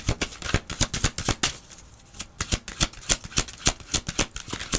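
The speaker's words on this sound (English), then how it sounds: "This is the last time I'm shuffling" Tarot cards being shuffled close up, a rapid series of crisp riffling flutters and taps with a brief pause midway.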